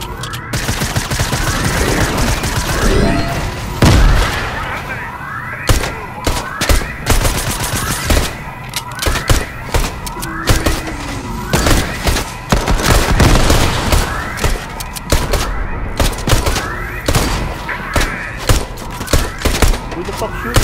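Rapid gunfire in Fortnite, volleys of shots and bursts aimed at the player, loud and close, repeating in dense clusters across the whole stretch, with a voice talking over parts of it.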